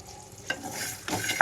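Peanuts and coriander seeds dry-roast on a low flame as a spatula stirs them, producing two short scraping, rattling strokes over a soft background hiss.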